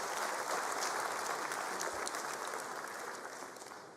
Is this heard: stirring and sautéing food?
no